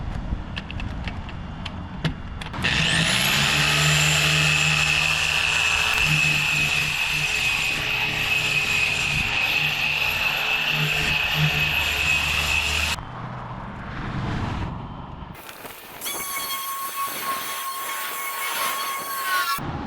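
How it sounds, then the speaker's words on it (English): Bauer dual action polisher from Harbor Freight running on a finishing pad against a boat hull, a loud steady high whine and hum for about ten seconds that then drops off, followed by quieter mechanical noises. "today is going to be finishing polish on a finishing pad using a Bauer dual action from Harbor Freight"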